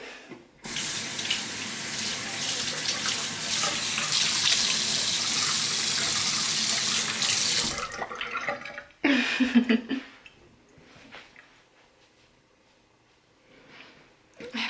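Tap water runs steadily into a sink while skin is rinsed after a henna freckles scrub. The flow is loud for about seven seconds, then cuts off, followed by a few brief splashes and quiet.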